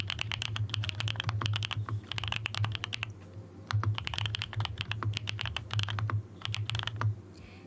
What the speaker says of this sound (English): every time I press spacebar you can hear the rumbling hollow sound